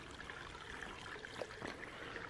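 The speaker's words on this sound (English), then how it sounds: "Come up to another little creek," A tiny creek trickles along a woodland hiking trail in a southern Illinois state park, a soft, steady wash of running water close by with no talking.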